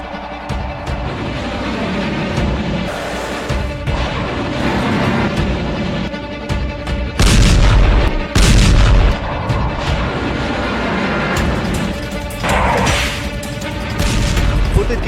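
Bombing from a US airstrike in Yemen: heavy, booming explosion blasts burst out of a loud, continuous roaring rumble, with the strongest impacts bunched together midway.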